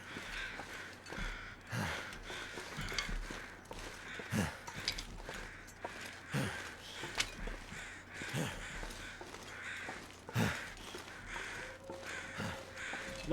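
Crows cawing in The Long Dark, scattered harsh calls spaced every second or two over a quiet wilderness background, some louder and closer than others.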